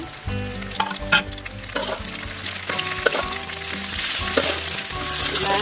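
Green chilies stir-fried in a pan for an Indonesian vermicelli dish, giving a steady close sizzle with intermittent scraping stirs and light clinks, with no talking.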